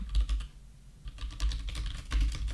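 Rapid, uneven clatter of keys on a computer keyboard, with a short pause partway through.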